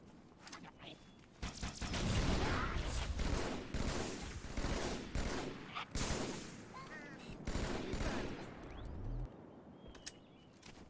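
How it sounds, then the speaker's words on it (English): Battle rifle fire in the video game Halo 2 cracks in rapid bursts amid a dense, loud firefight, with repeated volleys and mechanical clatter throughout. "This battle rifle feels so much more rewarding to use when you have to be more deliberate with your shots."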